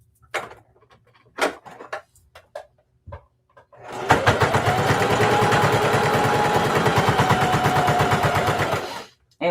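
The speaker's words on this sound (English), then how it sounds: "I'm just going to be sewing on the edge of the fabric all the way around." A sewing machine runs steadily for about five seconds, stitching along the edge of fabric for a half-circle handbag, with a dense, even rhythmic whir. Short handling clicks come before it.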